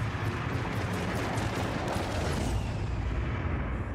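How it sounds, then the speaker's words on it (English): Ship weapons firing in the space game Star Citizen, a dense continuous barrage of low rumbling booms and rapid shots that shifts in tone as the ship draws closer. "we have ship weapons, so listen to the fire rate as the ship approaches the camera here"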